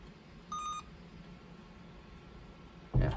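A Radionics alarm panel door chime gives a single short electronic tone, faint against a quiet room hum, followed later by a brief low thump.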